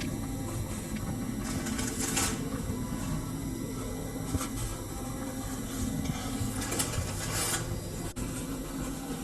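Paper towels are laid and rubbed into a tray to line it for storing tomatoes, giving close, continuous rustling and scraping with a few louder swishes, with no talk.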